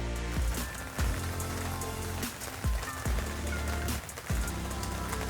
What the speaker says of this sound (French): Oui, il pleut.